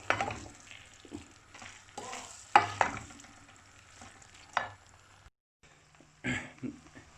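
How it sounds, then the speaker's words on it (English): Vegetable noodles being stirred in a pan, with irregular close scraping and tossing bursts over a faint sizzle, a brief near-silent gap, then another stir. "Now it needs a very good mix."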